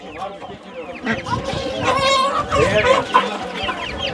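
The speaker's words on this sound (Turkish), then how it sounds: "Horoz bunlar ya." Roosters and hens cluck and crow loudly close by amid a busy poultry market in Sakarya, Turkey, with people talking over the birds.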